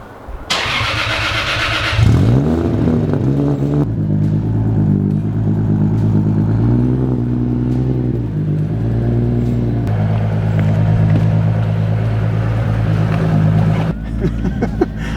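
A right-hand-drive, moon-boosted Toyota Supra with over 1000 hp cranks with a starter whine, then fires into a loud, rough idle that rises and falls in revs close up.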